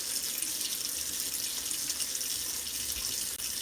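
Water runs from a tap, filling a container with a steady, close, even rush of splashing that holds throughout with no talk.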